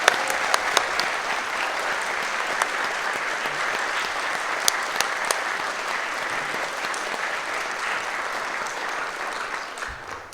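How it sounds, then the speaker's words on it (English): Outdoor audience at a Veterans Day ceremony applauds the band, sustained even clapping from a sizable crowd with a few sharper individual claps standing out, continuing for the whole stretch. "I think we need to have another round of applause for our band today."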